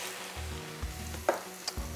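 Browned garlic, parsley and chili flakes in olive oil are stirred in a pan off the heat, a soft sizzle under a few short scraping strokes and clicks of the spoon, with no talk.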